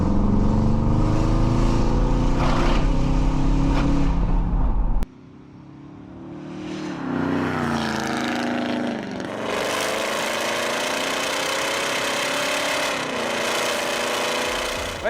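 A V12-engined Volkswagen Amarok drones and revs while driving, pitch rising and falling, with wind rushing through an open window, loud and steady.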